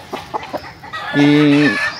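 Breeding hens at a gamefowl farm cluck in short bursts, then one hen lets out a long, loud drawn-out squawk close by.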